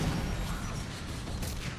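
Mass Effect 3 multiplayer combat with flamer fire and grenade explosions makes a dense, continuous rumbling blast of noise, low and loud throughout, with a few sharper bursts near the end.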